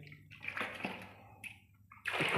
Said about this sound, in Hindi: पानी डालेंगे एक बाल्टी गर्म पानी की